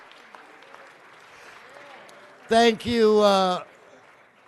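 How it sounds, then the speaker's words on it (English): Faint audience applause at a city council meeting, a low steady patter of clapping that continues under a brief loud spoken interjection near the end. "Let's give them all one more big round of applause."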